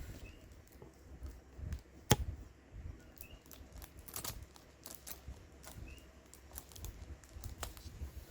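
Large scissors cut open plastic packaging, giving a string of sharp snips and crinkles, fairly quiet and close, with one loud crisp snap partway through.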